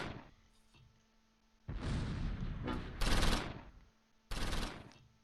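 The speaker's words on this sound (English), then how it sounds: "machine guns go crazy" Bursts of machine gun fire from the Close Combat V war game come in three loud, dense volleys separated by brief quiet gaps, with no talking.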